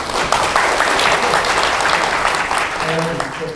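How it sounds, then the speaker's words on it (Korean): Audience applause greets a presenter introduced at a PyCon APAC 2016 conference talk, a dense steady wash of clapping from a crowd with some voices mixed in, fading slightly near the end. "박수 부탁드립니다"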